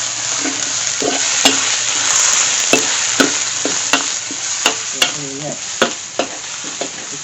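Curry paste fries and is stirred in a hot pan for a catfish dish with noni leaves, a loud continuous sizzle punctuated by regular scraping knocks of the utensil against the pan.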